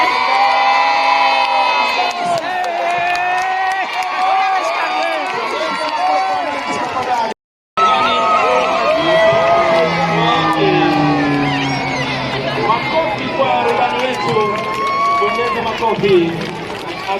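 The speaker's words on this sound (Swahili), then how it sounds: "makofi." Large outdoor crowd at a Kenya Defence Forces military airshow at Uhuru Gardens cheering, shouting and whooping loudly, with an announcer's voice over the din and a brief dropout midway.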